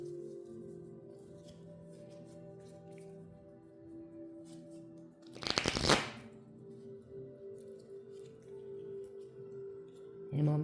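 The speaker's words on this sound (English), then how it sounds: "Making sure the cards are the right way up." Tarot cards rustle quietly against a steady humming background, then a loud riffled shuffle bursts out for about a second before fading back to faint handling.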